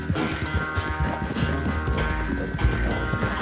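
Rapid, continuous hoofbeats of a galloping horse in Red Dead Redemption 2, dense and steady throughout, with a busy backdrop of other game sounds.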